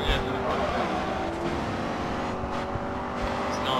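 A race car engine in the video game Grid 2 roars steadily at high revs throughout, loud and continuous.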